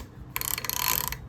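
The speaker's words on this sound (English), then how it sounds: "this ratchet is working correctly down here" A fishing reel's ratchet clicking during a rebuild, one quick close burst of rapid, even metallic clicks lasting under a second.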